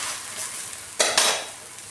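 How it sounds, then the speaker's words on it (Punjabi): Sweet puda frying on an iron tawa, with a soft continuous sizzle broken by two sharp scrapes of a spatula as it is lifted and flipped, close and without talk. "ਪਲਟੇ ਦੇ ਨਾਲ ਇਸ ਨੂੰ ਚੁੱਕ ਕੇ ਤਵੇ ਤੋਂ ਪਰਤਾਵਾਂਗੇ"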